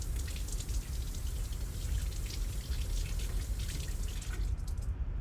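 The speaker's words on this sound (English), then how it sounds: "Let me rinse my hands real fast." Running tap water splashes steadily over hands being rinsed in a kitchen sink, a close, continuous wash of droplets that stops abruptly near the end, with no talking.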